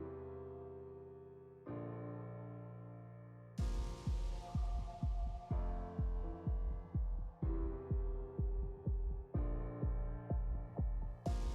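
A home sewing machine stitches the back neckline of a dress, guided by the presser foot, giving a steady run of quick, soft mechanical thumps after a few seconds of low humming tones, fairly quiet throughout.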